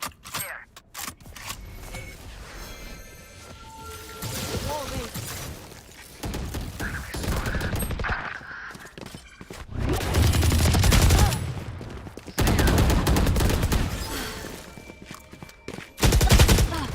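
Bursts of rapid gunfire in the video game Valorant crackle in clusters, loud and close, with quieter stretches of mechanical clatter between volleys.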